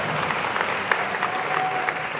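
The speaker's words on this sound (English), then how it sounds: "One more round of applause for those guys." Audience applause at a high school 25-year class reunion, a brief burst of steady, dense clapping from a crowd filling the room, continuous and moderately loud with no talk over it.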